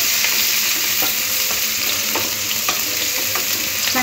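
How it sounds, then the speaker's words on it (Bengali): Chopped green chilli and minced onion fry for chicken 65, giving a steady close sizzle punctuated by regular scraping clicks of a spoon stirring the pan. "দিয়ে একটু ভাজা ভাজা করে নেব"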